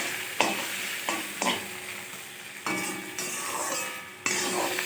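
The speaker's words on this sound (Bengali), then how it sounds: "এই তেলটার মধ্যেই বাকি খোসাগুলো দিয়ে দিয়েছি" Leftover prawn shells frying in the oil in which the prawns were fried earlier, in a kadai. A close, steady sizzle is broken by several abrupt scrapes and clinks of a spatula against the pan, with no voices.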